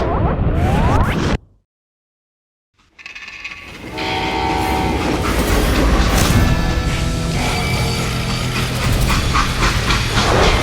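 A freight train in the 2013 shooter game Call of Juarez: Gunslinger rumbles loudly and continuously, with a horn-like tone, after a brief opening sound and a second of silence.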